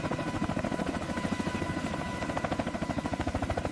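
A CH-53K King Stallion heavy-lift helicopter roars steadily with a heavy, rhythmic rotor thump and a loud engine whine, close and continuous throughout.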